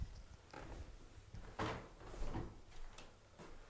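An indoor door is opened and walked through along a corridor between rooms, giving a few quiet knocks and clunks of the handle and panel, with soft shuffling in between.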